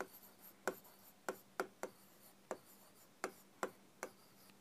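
Writing on a board during a zoology class: a run of about ten short, crisp scratchy strokes and taps in an uneven rhythm, fairly faint and close, with no talking.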